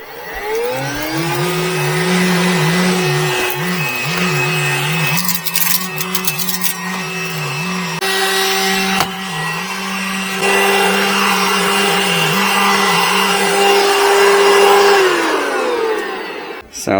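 VacLife rechargeable handheld vacuum with a motorized brush cleaning a car rug, a loud close motor whine that spins up, runs steadily with scraping and rattling of the brush, then winds down.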